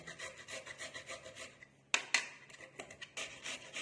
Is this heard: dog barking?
no